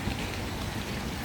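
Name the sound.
rain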